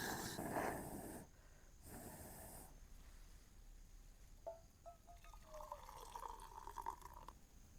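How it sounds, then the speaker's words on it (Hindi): Water trickles and splashes over a burned hand at a rainy forest campsite, a soft, uneven pouring with a few small drips and splashes and no talking. "थोड़ा सा पानी डाल देता हूँ।"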